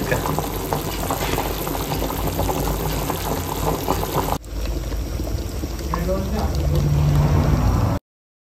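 A pot of village-style goat mutton curry boils hard, bubbling and churning loudly up close. A voice is heard over it, and the bubbling grows fuller toward the end before it cuts off.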